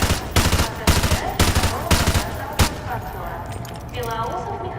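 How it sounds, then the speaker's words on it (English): Rapid automatic gunfire rings out in the Call of Duty No Russian airport massacre level, coming as several loud bursts of rattling shots, then a faint clinking tail, with game audio and voices mixed underneath. "we're forced to participate in a mass shooting of innocent civilians at a Russian airport"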